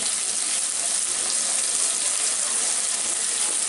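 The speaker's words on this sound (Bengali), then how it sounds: "এখন এটাকে হালকা করে একটু ভেজে নিব" Chopped onions frying in a pan with mustard seeds for a sweet corn curry give off a dense, continuous close-up sizzle that holds evenly throughout.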